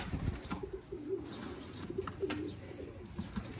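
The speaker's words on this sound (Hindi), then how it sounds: "देखो जी दोस्तों सियालकोटी टुनिया चूहा कबूतर" A Sialkoti Tunia Chuha pigeon gives several soft, low cooing calls in short bursts, steady and near, with a quiet background of other birds.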